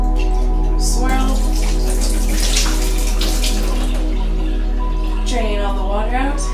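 Water and broccoli seeds slosh and swirl inside a jar, steady and close, with a continuous low hum underneath and a brief rising chirp of sound near the end.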